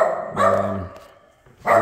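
Puppies bark indoors in a cluttered, shut-down room, two loud sharp barks separated by a brief pause, close by.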